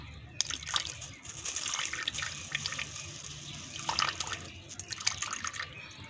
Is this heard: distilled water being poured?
yes